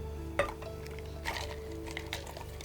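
Ice cubes dropped into a container while making Swiss lemonade, a few sharp clinks spaced out over a steady background hum, close and moderately loud.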